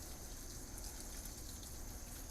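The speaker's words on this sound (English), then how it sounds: "So let's water these ones while I have them out." Water poured into a potted monstera growing in pon substrate, a steady, close gushing pour that runs unbroken and alone throughout.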